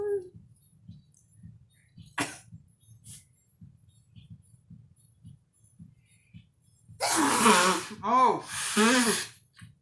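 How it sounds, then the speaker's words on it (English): A person sneezes loudly near the end after quiet breathing and small sounds, with voiced gasps around the sneeze. "I'm gonna sneeze."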